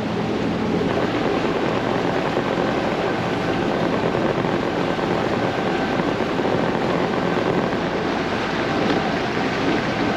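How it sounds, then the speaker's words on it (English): A camera drone flies with a steady, loud propeller whir that runs unbroken and close throughout, with no voices. "I'll set the drone up now and we'll get flying"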